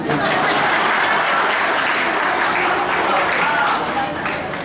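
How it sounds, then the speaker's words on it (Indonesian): Sustained audience applause at a presentation by a regional regent in Kulon Progo, Indonesia: dense, steady clapping from a large crowd, loud throughout and tapering slightly at the end. "tolong diberi tepuk tangan dulu ini."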